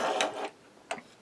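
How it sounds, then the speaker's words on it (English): Ethernet-to-USB-A dongle plugged into an Anker 7-in-1 USB-C hub, heard as a soft scrape and click of the connector going in, followed by a second short, faint click a moment later. "plug in our Ethernet to USB-A dongle to the 7-in-1 hub."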